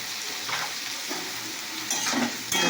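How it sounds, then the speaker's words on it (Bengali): Spices and salt frying in a pan with pointed gourd, stirred while cooking; a steady soft sizzle runs throughout, with brief scraping stirs and a louder hiss near the end. "মশলা দিয়ে কষি জিরে জিরে দিয়ে আর লঙ্কা গুঁড়ো দিয়ে কষে নিতে হবে।"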